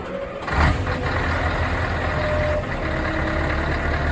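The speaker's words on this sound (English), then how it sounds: "Garbage truck." A garbage truck engine idling with a heavy low rumble, loud and steady, a brief louder burst early on and a faint tonal beep line running through.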